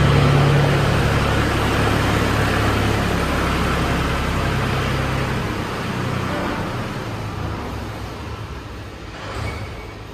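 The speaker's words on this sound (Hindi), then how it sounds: "निकल गया मोहन ट्रैक्टर, कहाँ फंस रहा था?" A tractor drives past outdoors with a loud, steady diesel rumble close by that slowly fades as it moves away, and nobody talks over it.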